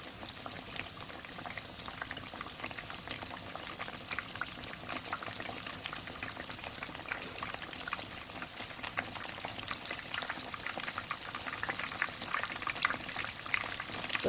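Steady, dense crackling and sizzling of a homemade pork cutlet deep frying in hot oil, continuous and fairly close, with no talking.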